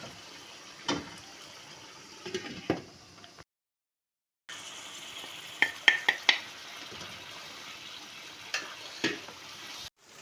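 Ridge gourd cooked with tomatoes, yogurt and onion sizzles and fries in a pan, with a steady close hiss, a short silent gap, and several sharp utensil clinks against the pan.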